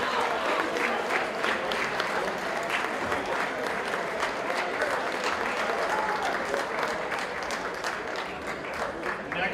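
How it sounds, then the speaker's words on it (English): Audience applause at an esports awards ceremony for a Super Smash Brothers state finals, sustained dense clapping from a crowd filling the hall at steady loudness, with a voice faintly under it. "Another round of applause for Carmel High School."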